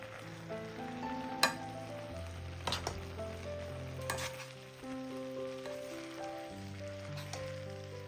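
Cut boiled egg pieces are added to an egg and drumstick dish in a frying pan. A steady, gentle sizzle with a few sharp stirring clicks runs beneath tonal background music.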